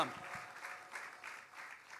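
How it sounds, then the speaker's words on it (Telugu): A church congregation claps in praise, a rhythmic burst of many hands repeating roughly every third of a second, fairly distant and soft in a reverberant hall. "చప్పట్లు కొడదాం"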